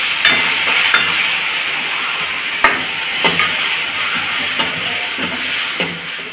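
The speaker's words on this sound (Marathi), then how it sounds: "त्यानंतर आपण हे चिरलेले टोमॅटो टाकून घेऊ." Chopped tomatoes hit hot oil with frying garlic and cumin for an eggplant bhaji, giving a loud, steady, close sizzle and hiss with occasional light scrapes and clicks of stirring. No one speaks.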